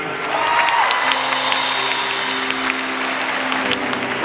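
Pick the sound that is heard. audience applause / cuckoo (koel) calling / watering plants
audience applause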